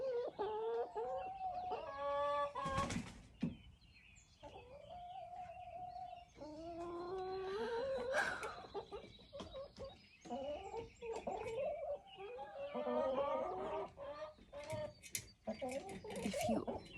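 Backyard chickens cluck and squawk in a lively, overlapping chorus, with sharp calls and a few louder bursts rising over the flock while a person talks intermittently nearby.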